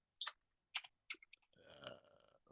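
Several quick keyboard clicks on a computer keyboard, a few separate bursts of typing and then a short run of keystrokes, close and fairly quiet, with no talking over them.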